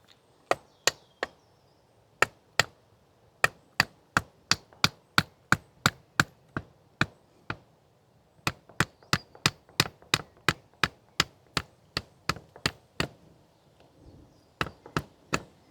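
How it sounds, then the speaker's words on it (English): Sharp, rapid hammer blows drive a stake in at an allotment garden, striking in steady runs and pausing briefly between series, loud and close with nothing else in the background. "I'm going to hammer this in to screw it into"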